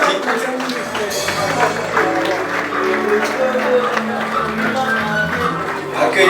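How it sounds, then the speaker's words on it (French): A congregation at a Congolese revival church applauds as church authorities enter the hall, giving steady, dense clapping mixed with crowd noise and voices for several seconds. "C'est sous vos applaudissements que vous accueillez vos autorités ecclésiastiques."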